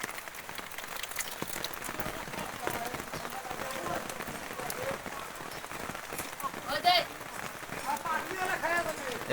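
Rain falls steadily in a village, a broad patter close by with scattered drop impacts and a couple of louder splashes, while voices talk over it intermittently.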